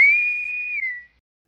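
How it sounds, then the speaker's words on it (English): A single clear, steady whistle tone sustained for about a second, gliding slightly down at the end before cutting to silence; it serves as a disconnect-and-reconnect signal. "I've started associating this whistle with disconnecting and reconnecting."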